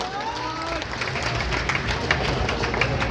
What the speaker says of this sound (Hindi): एक बार तालियां बजनी चाहिए जोरदार